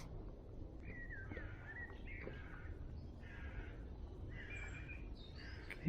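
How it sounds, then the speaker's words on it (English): Birds sing in a quiet country lane, with several short chirping and whistling phrases repeating faintly over a soft outdoor background hum. "The birds singing,"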